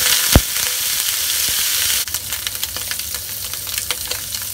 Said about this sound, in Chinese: 咁而家落個豆腐落去煎香佢先。